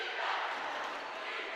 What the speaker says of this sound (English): The Ballaghadereen crowd getting into it